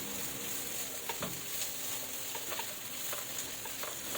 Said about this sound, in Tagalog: isama na po natin yung pork sa paggisa po dito